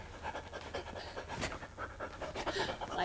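A person imitates a small dog panting with quick, shallow, rhythmic breaths, close and steady for a few seconds.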